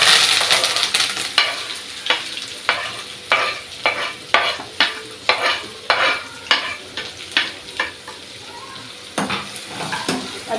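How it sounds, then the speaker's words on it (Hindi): Onion and garam masala sizzle in a pan while a spoon stirs them in a repeated rhythm of scraping strokes over a constant fry hiss, close and without talk. "अभी इसको अच्छा सा सौटे होने देंगे, थोड़ा प्याज ना नरम हो जाए"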